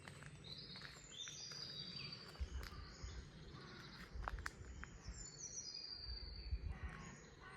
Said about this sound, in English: You can hear carrion crows, blue tits, great tit, song thrush, robin, wood pigeon up there, collared dove.